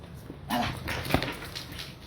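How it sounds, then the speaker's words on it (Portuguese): Pet dogs at play give a quick mix of yips, short barks and soft whimpers. The sounds are close and moderately loud, with no talking. "Meus cachorros, eles amam brincar"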